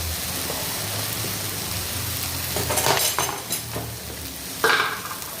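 Chopped vegetables tossed with onion and garlic into a hot kadai sizzle steadily while a spatula stirs and scrapes, with a few metal clinks near the end and no talking.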